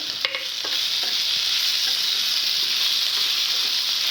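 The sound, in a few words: okra, tomato pieces and green chillies frying in a pan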